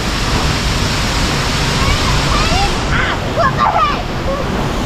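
Shoshone Falls roars as a steady, loud wall of broadband rushing water, with faint voices and whoops briefly cutting through near the end.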